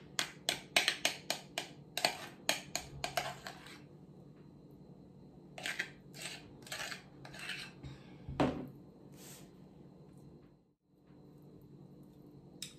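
A metal spoon clinks and scrapes against a baking dish while spreading thick chocolate batter for a chocolate cottage cheese pie. Quick, close clinks come in a busy run at first, then thin out into scattered, quieter taps.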